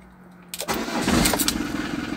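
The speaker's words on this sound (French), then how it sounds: "On démarre le moteur." An old car's engine cranks and catches, then settles into a steady, close idle with a broad mechanical rumble and no talking.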